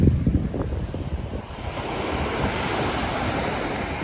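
Sea surf breaking on the shore below a seaside mosque set among greenery, a loud continuous wash of waves with wind buffeting the microphone, an initial thump of rough noise settling into steady roaring surf.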